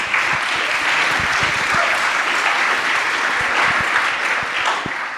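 An audience at a privacy panel event applauds to welcome the panelists, dense sustained clapping from a crowd, steady and fairly loud throughout.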